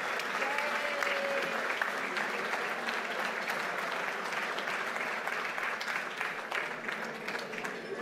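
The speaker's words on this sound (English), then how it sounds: "So if we can get a round of applause," A gala audience applauds a new executive chef, Jeffrey Morden, with dense, continuous clapping that fills the whole stretch at moderate distance, steady and unbroken without voices standing out.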